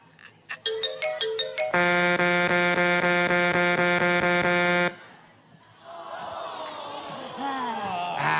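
A loud, sustained horn blast follows a quick run of rising tones, then cuts off, leaving a murmur of voices and background noise.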